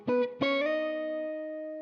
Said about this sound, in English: so the song kicks off with this pickup that has these octaves,